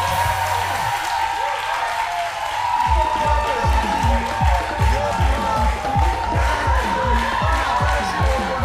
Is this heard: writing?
no